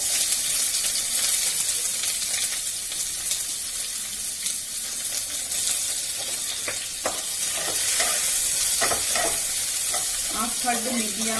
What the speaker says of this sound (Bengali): আমি পেঁয়াজটা ভাজতে দিয়ে দিচ্ছি।